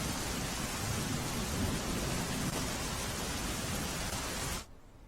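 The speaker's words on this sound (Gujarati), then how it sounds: "પાલનપુરમાં વહેલી સવારથી વરસાદી માહોલ છવાયો છે" Steady, dense rain pours continuously, loud and close, then cuts off abruptly near the end, during an early-morning downpour in Palanpur, Gujarat.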